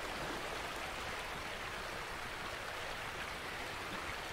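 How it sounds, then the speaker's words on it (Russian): A noisy water stream in the survival game Blight, a steady broadband rush of running water that stays loud and constant throughout, with no talk over it. "Я, наверное, отойду от воды, потому что очень шумно."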